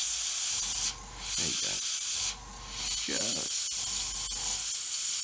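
An airbrush hisses in two broad bursts of paint spray over an Airfix Hawker Hurricane Mk.1 Tropical scale model, each burst a few seconds apart, close and steady, with someone speaking briefly between them.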